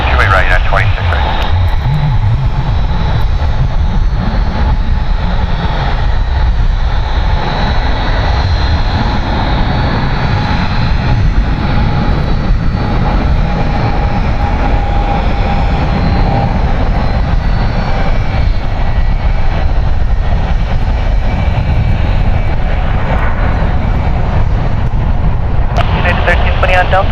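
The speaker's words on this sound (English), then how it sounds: "777 departing to London Heathrow." A Boeing 777 departs San Francisco International Airport for London Heathrow, jet engines roaring loudly and continuously in a broad sustained rumble with a steady whine on top.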